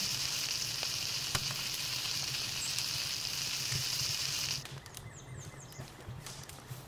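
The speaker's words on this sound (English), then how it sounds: "Oh, man, he's frying them up." Lamball kebabs fry in Palworld with a steady bright sizzle, close and continuous, that cuts off abruptly near the end, leaving faint game sounds.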